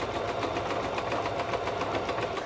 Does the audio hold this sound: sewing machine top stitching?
yes